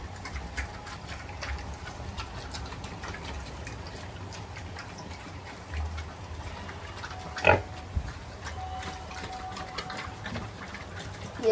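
A domestic pig grazes on grass, with faint, irregular munching and snuffling over a steady outdoor background hum, plus an occasional louder grunt or snort.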